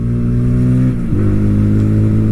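A Bajaj Pulsar P150 motorcycle in third gear at full throttle, its engine note climbing steadily, dipping briefly mid-clip, then rising again, loud and close with no talking.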